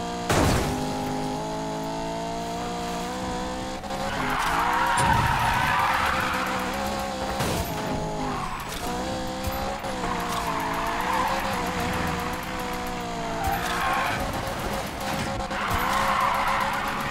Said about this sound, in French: C'est plutôt un dérapage que je viens de faire.